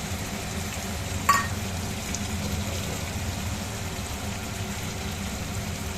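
Spice paste of ginger, cumin, tomato, chilli, coriander and yogurt frying with potato, cauliflower and paneer in a pan, a soft continuous sizzle with one brief metallic clink early on.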